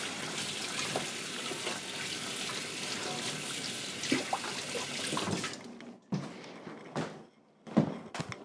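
Tap water runs steadily from a faucet into a sink as a bench scraper is rinsed, a continuous splashing hiss that breaks into short bursts and stops near the end.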